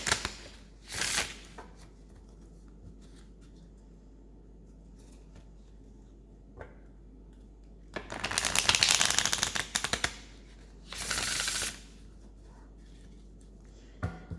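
Tarot cards are shuffled in a few quick riffling bursts, separated by long quiet pauses, close and crisp.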